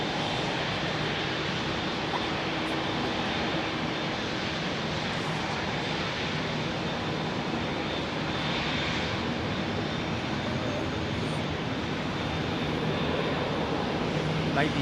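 An airliner takes off at London Heathrow Airport, giving a steady, broad engine roar heard from a distance that holds for the whole stretch, with people chatting over it.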